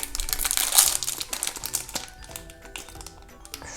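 Crinkling of a plastic toy surprise packet being opened by hand, a burst of close, sharp crackles and rustles at first, then quieter scattered crinkles and taps as the wrapper is handled.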